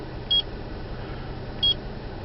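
A taxi's in-car device gives two short, high electronic beeps about a second apart while its settings are being configured, over a quiet background hum.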